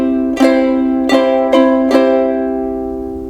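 A ukulele plays four bright strums, thumb down strokes and an index up stroke, unevenly spaced and ringing out close and alone before fading.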